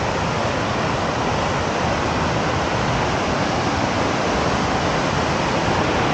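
Water rushes in a loud, constant broadband roar, close and unbroken throughout, with no voices over it.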